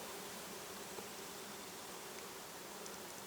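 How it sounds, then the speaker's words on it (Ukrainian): A honeybee forages among Virginia creeper leaves outdoors, giving a faint, continuous buzzing hum that stays steady over soft background hiss with no voices. "послухайте, як на дівочому винограді працює бджола"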